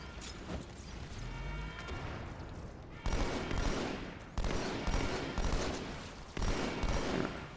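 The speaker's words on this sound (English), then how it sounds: "They're still shooting." Automatic gunfire bursts in a Halo 2 match, repeated rapid volleys in several loud clusters with short gaps between them, no talk over it.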